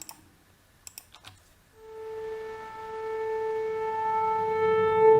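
A reversed synth note processed with tape emulation swells steadily from silence after a few soft clicks, growing louder and brighter before cutting off abruptly at its peak.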